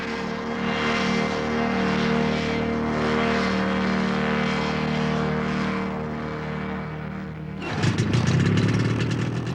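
A propeller plane loaded with 250 pounds of gear takes off in the Namib Desert. Its engine gives a loud, steady, harmonic drone that shifts abruptly to a rougher, louder roar near the end.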